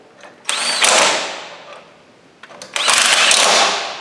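A power tool runs in two bursts, each about a second long, driving 5/16 UNC bolts to clamp a plate onto a Volvo Amazon lower wishbone during a rebuild. The whine is loud and close, and there is a short quiet gap between the bursts.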